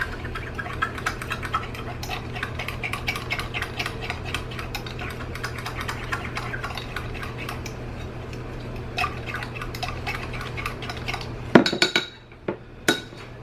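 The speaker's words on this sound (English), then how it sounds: "I'm just gonna go ahead and kind of whisk it and make sure I'm really stirring it with my fork until it's all fully incorporated" A fork whisks a flour slurry into a sauce in a pot, with rapid, steady metallic ticking and scraping against the cookware, followed by a few louder clinks at the end.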